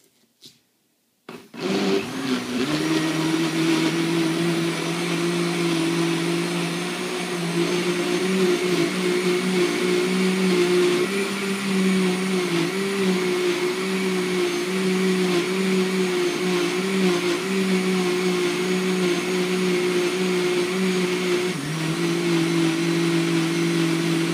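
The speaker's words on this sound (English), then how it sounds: "You could skip ahead past this blending part." A blender starts with a sharp click and whirs up to a loud, steady motor drone while blending a post-workout shake with spinach, its pitch shifting slightly as the contents churn before easing near the end.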